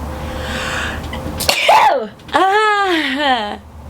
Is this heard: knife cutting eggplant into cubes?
no